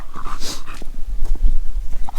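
A small dog whimpers and whines in a forest while out on a walk, giving high, breathy cries that rise and fall close by, with rustling and footsteps on the ground underneath.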